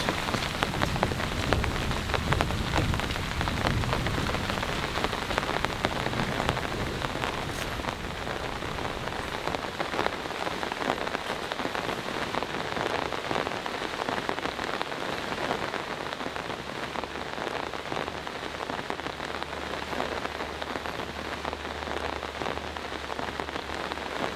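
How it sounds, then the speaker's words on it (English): Steady, moderate rain patters on a Poler four-person pop-up tent without pause, a dense continuous hiss with scattered droplet taps, no voices. "It's still raining out there, but it's not super heavy."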